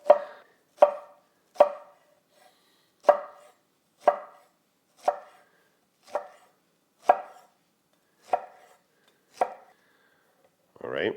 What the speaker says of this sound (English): So we'll just cut along there,